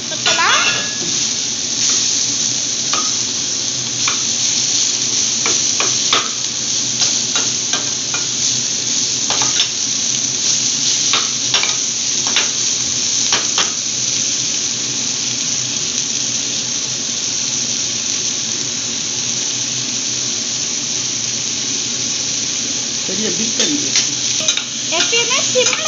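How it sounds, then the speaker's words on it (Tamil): Tomato, carrot and potato sauté in a pan for brinji rice, with a continuous sizzle and repeated scraping and clinking as the vegetables are stirred, steady and close for the whole stretch with no talk. "இப்ப அதுக்குள்ள நம்ம இங்க வதக்கிட்டு இருக்கோம்"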